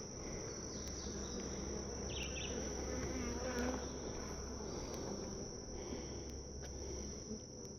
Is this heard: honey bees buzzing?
yes